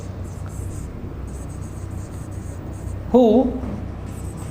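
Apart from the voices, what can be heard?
writing an example sentence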